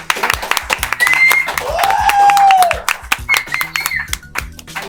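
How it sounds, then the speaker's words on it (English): Scattered clapping from a small group at a cafe gathering, sharp irregular hand claps mixed with talk and whistling tones. "Round of applause."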